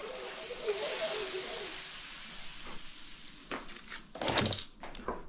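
Butter sizzling on a preheated griddle, a steady hiss that fades, followed by a few soft scraping and handling sounds near the end.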